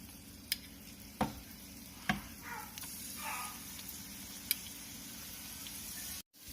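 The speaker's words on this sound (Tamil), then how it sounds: "எண்ணெய் சூடானதும் நம்ம இது போட்டு ஃப்ரை பண்ணி எடுத்துடலாம்" Paneer fries in hot oil over medium heat, a soft continuous sizzle with a few sharp clinks of a utensil against the pan, fairly quiet and close.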